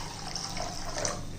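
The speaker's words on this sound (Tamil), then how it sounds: "இப்போ தண்ணி ஊற்றிக்கிடுவோம்." Water poured into a bowl holding 50 grams of toor dal in a home kitchen, a short, soft, steady splashing stream heard close up and alone.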